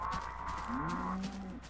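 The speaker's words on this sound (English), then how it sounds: "did you just hear the sound of that cow?" A cow in the Minecraft video game gives a drawn-out, pitch-bending moo lasting about a second, fairly close and clear, with no talking over it.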